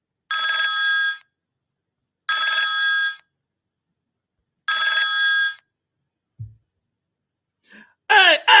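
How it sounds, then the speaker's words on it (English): An outgoing phone call rings three times in even electronic bursts separated by silence, loud and near, followed by a faint click and then a voice answering. "Let me make the phone call."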